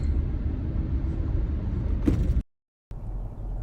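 A vehicle rolls through the wooden Grist Mill Covered Bridge in New England, a steady low rumble of tires on planks, a brief thump near the end, then a short gap before the rumble resumes.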